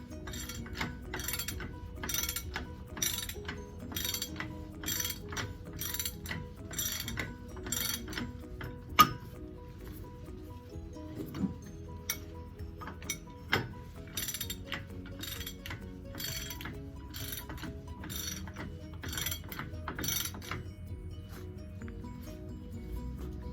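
Rear wheel hub of an MCI 102DL3 coach being tightened and spun after a seal change, with a steady train of light metallic ticks and clinks repeating evenly at close range, faint and without talk.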